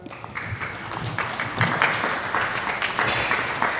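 An audience at a Sanskrit school applauds students after their patriotic song, a full, continuous round of clapping that swells slightly midway and stays loud throughout.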